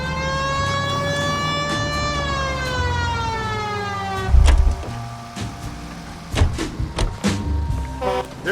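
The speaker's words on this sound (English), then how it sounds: "Turn on the siren and pull her over." A loud wailing police car siren in the video game L.A. Noire with a falling pitch, then sharp thuds and clatters taking over in the second half.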